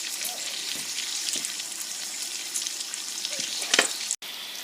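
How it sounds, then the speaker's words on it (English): Butter added to rice and beans cooking in a pot, a steady soft sizzle and bubbling with occasional light clinks, close and moderately quiet, ending in a short dropout. "So I'm adding some butter."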